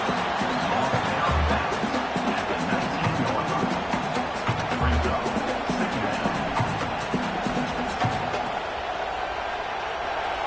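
A large football stadium crowd roars in a dense, sustained wall of cheering and noise at a college game, loud and continuous, swelling and then easing slightly near the end.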